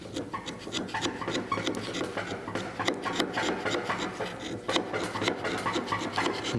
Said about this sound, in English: we're just kind of scraping it out of there.